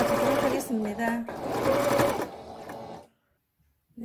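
A domestic sewing machine stitches a fabric face mask in close bursts of rapid mechanical whirring, with a short pause between runs, then stops into near silence; no one speaks over it.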